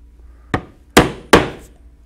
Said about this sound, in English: with a 4-prong and a single-prong thonging chisel, and I will start in the corners with a hole diagonally across the corner